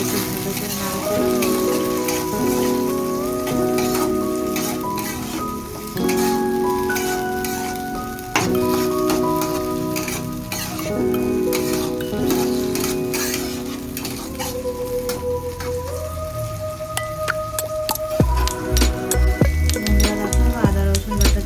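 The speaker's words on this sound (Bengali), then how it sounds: "টমেটো কুচি দিয়ে দেবো, দিয়ে একটু ভালো করে নাড়াচাড়া" Chopped tomato fries in a curry pan for an egg, potato and pea curry, with a continuous close sizzle and repeated stirring scrapes throughout. A steady tonal background sits underneath, and the frying grows busier toward the end.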